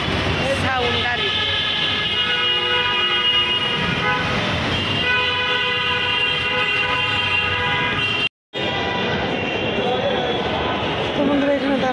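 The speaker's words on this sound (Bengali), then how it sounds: "দেখুন কী পরিমাণ সাউন্ড গাড়ি" Heavy street traffic outside a hospital, with repeated car and vehicle horns honking loudly over a constant roar of engines, and a voice talking over the din.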